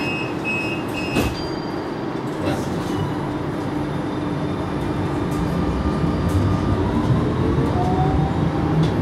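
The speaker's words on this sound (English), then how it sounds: "will be Beckenham Junction, where this tram will terminate." London Tramlink tram running toward Beckenham Junction heard from the cab, a steady rumbling roll on the rails with squealing wheel and motor whines rising and falling, loud and continuous throughout.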